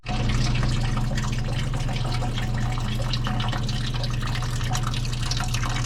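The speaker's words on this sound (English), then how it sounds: "let's start with draining the coolant." Coolant draining from a 6.4 Powerstroke diesel engine, a steady continuous splashing trickle of liquid over a low hum, close and unbroken throughout.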